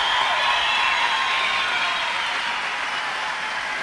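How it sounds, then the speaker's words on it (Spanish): An audience at a bingo prize event in Esquel applauding a local winner, a steady dense wash of clapping at even loudness throughout with no break. "Gracias, Esquel, por esos aplausos para esta vecina de nuestra localidad"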